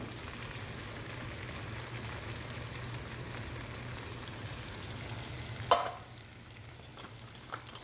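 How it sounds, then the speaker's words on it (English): Canned cream corn sizzling and crackling in a hot frying pan, a steady close frying hiss that ends with a sharp clatter, leaving quieter sizzle afterward. "I'm going to be adding a can of cream corn, any style cream corn you would like"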